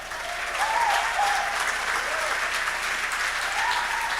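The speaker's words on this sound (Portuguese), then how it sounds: "dê um aplauso para Jesus aí" A church congregation at a Pentecostal revival service applauds, a dense sustained wash of clapping from many hands, loud and close, with a few voices faintly in the background.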